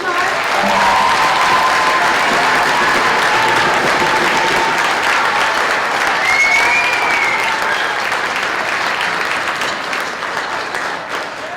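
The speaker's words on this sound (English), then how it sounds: "Can we give the 5th grade band one more round of applause?" Loud, full applause from the audience at a middle school winter concert for the 5th grade band, a thick continuous roar of clapping that stays strong and then tapers off toward the end.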